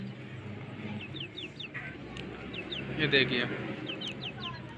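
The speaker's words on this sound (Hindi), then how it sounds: "ये असलील मुर्गा है" A two-month-old Aseel rooster with a long neck gives repeated short clucks and chirps close by, over farmyard background noise while someone talks.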